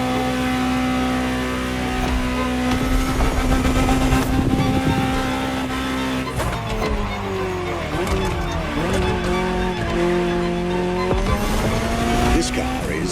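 Ferrari GTO, the Gran Turismo Omologato, driving in The Crew Motorfest, its engine holding a loud steady note and then sweeping up and down through revs with tire noise, while a voice narrates over it.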